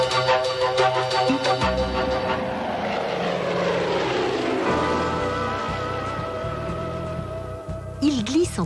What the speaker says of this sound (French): Ce sont les avions des mers et des lacs.